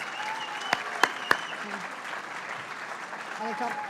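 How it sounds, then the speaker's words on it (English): Applause for the winning team at the Adirondack Winter Challenge tournament, a steady wash of clapping from a crowd with a few sharp, close claps standing out near the start and some voices mixed in. "Let's give them a huge round of applause."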